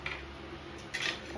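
A frying pan holding an omelette is handled during a flip, giving a couple of faint metallic clinks and scrapes over a quiet kitchen background.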